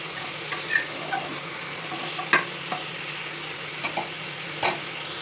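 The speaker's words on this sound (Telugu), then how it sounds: "మరి ఒకసారి పప్పుని కలుపుకోవాలి" Moong dal and bottle gourd are stirred in a pan, a soft continuous sizzle broken by occasional light scrapes and clicks of the spoon against the pan.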